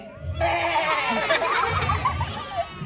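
Goat bleats close by in a park setting, a wavering nasal cry sustained across most of the three seconds, with low rumbling background noise underneath.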